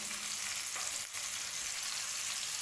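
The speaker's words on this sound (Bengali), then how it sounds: "তো আমি গাজরগুলো দিয়ে দিলাম" Chopped and grated carrots frying in a pan for chicken momo filling, a dense, even hiss of sizzling oil heard close and unbroken, with a brief dip midway and no voices.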